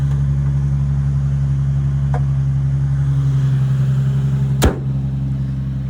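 A Nissan 350Z engine idles steadily after a jump start, a constant low drone close by with one sharp click near the end and no talking.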